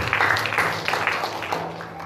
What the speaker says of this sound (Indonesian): Ya, berikan tepuk tangan meriah.